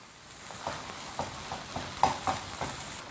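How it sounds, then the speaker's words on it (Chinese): Pickled cabbage stir-fried in a wok with ginger, scallion and garlic gives a soft, steady sizzle with rhythmic scraping strokes of a spatula, repeating roughly twice a second. "全部炒香后，下入泡菜和姜、葱、蒜末"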